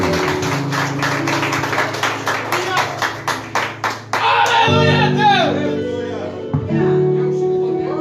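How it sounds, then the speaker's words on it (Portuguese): Church congregation clapping for Jesus, a loud rhythmic run of claps over a sustained music tone that stops after about four seconds, followed by a voice speaking with the music continuing. "Vamos aplaudir ao Senhor Jesus, irmão"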